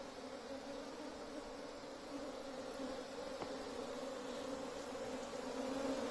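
A wild honeybee swarm streams upward toward a hive entrance during capture on a white sheet, giving a steady, dense buzzing drone that holds evenly throughout, close and continuous with no voices.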